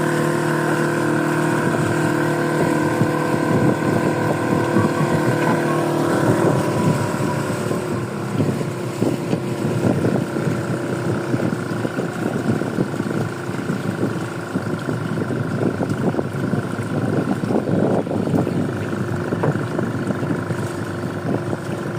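A motorboat engine runs steadily throughout, a droning hum with wind buffeting the microphone and water splashing along.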